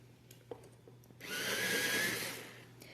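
Derwent Drawing colored pencil being sharpened: a steady whirring grind of about a second and a half, loud and close, rising and then fading away, with faint tapping before and after and no talk.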